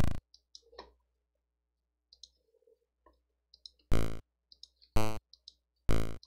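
Sega PSG noise channel in periodic mode playing an A2 tone, heard as short, loud, buzzy bursts, one at the start and three more near the end, with faint clicks scattered in between.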